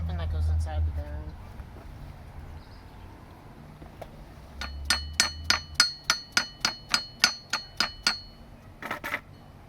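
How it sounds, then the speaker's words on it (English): A seal is hammered into a motorcycle wheel bearing during a wheel and tire refit: about a dozen sharp metallic hammer blows in a steady, evenly spaced run, close by, after some low talking. "Need to hammer that in."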